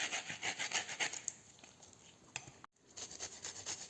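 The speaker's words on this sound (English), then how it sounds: "Grating garlic for dressing." Two garlic cloves grated for a dressing, a rapid rhythmic rasping of strokes across a grater, close and fairly quiet, with one brief pause near the end before the scraping resumes.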